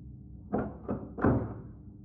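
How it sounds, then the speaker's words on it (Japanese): Three knocks on an apartment door heard from inside, dull and muffled as if struck from the far side, the first two close together and the third heavier after a short pause, with no voices. "しかしその直後、突然ドアの向こう側からノック音が響きます。"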